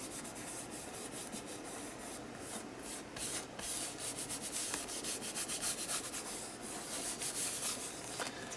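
A paper cut-out is rubbed down by hand onto an art journal page, a faint, continuous dry scuffing and brushing with no voices.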